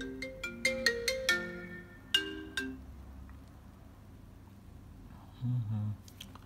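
A smartphone plays its ringtone during a speaker check, a short bright melody of clear repeated notes near the mic that stops, followed by a soft low hum and faint handling noise.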